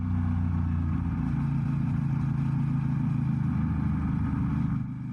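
A motorcycle engine hums steadily at close range as the bike rounds a turn onto a gravel road, a continuous low drone with no talk over it.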